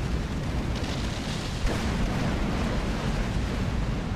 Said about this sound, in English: that's a lot of missiles and a lot of gunfire flying around